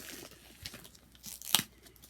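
Thin plastic packaging is torn and crinkled off a hardcover book in short, irregular rips with one sharp louder snap, close and quiet, with no talking.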